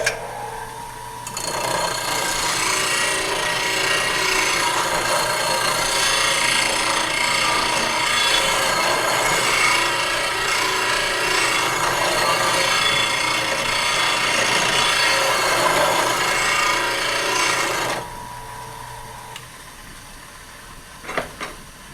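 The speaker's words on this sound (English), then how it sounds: "I have this one set up for this bowl gouge, and I'm going to go ahead and demonstrate how easy it is to use and repeat your sharpening angle" Bowl gouge sharpened against a bench grinder wheel with a repeatable-angle jig: a steady, loud, unbroken grinding rasp runs for about seventeen seconds, then cuts off, leaving the wheel's fading hum and a couple of light clicks.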